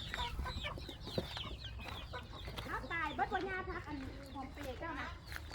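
Chickens cluck softly in a rural yard, with short repeated clucks and chattering calls at a moderate distance, mixed with low voices talking in the background.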